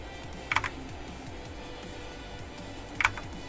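Two brief clusters of computer keyboard keystrokes, each a quick pair of clicks about two and a half seconds apart, faint against a steady background hum with no voices.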